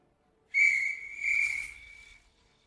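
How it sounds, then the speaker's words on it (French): A single shrill whistle tone sounds for about a second and a half, steady and piercing, then stops, with faint rustling underneath. "C'est bien un sifflet."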